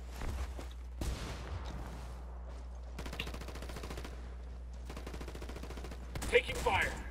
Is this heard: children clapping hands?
no